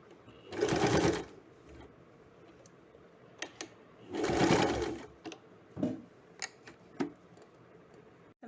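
Two runs of a sewing machine stitch a side seam pocket onto a kurti, each lasting under a second. Light clicks and handling knocks fill the gaps between them, all close by.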